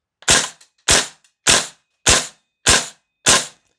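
A VFC V3 URGI 10.3-inch M4 gas blowback airsoft rifle fires six sharp, loud semi-auto shots at an even pace, each a close crack with a brief tail, and no one talks.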